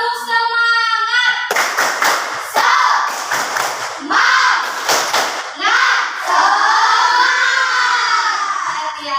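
A fourth-grade class claps a rhythmic 'tepuk semangat' pattern in bursts of loud, close claps. Children's voices chant and shout between and over the clapping, and a sung or called line opens and closes the sequence.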